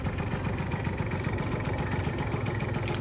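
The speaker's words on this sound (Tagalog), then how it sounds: "Umaandar yung motor." Old Japanese 49cc two-stroke scooter engine idling close by, a steady low rhythmic putter with constant vibration, no talk.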